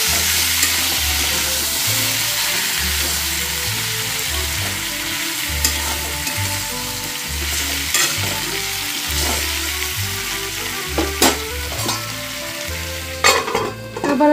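A vegetarian pumpkin and potato curry is stirred in an uncovered pan. Gentle sizzling runs throughout, with a low rhythmic hum underneath, and scattered spoon scrapes and clinks grow sharper toward the end.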